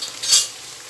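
Ground meat frying in a pan with peppers and onions gives a steady close sizzle, briefly swelling as the mixture is stirred, with no voices.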